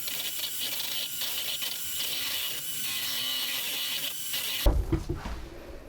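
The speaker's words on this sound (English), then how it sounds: "I'm going to take my electric mixer and I'm going to blend this up to try to get some air into these eggs" An electric mixer whips eggs for scrambled eggs, giving a steady high mechanical whir close by that stops abruptly near the end, followed by a few clunks.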